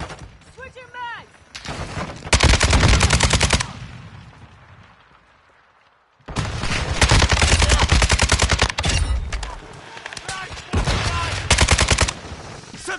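Rapid automatic AK rifle fire in a Call of Duty multiplayer match, loud close bursts with a pause in the middle where a voice speaks, then more sustained firing.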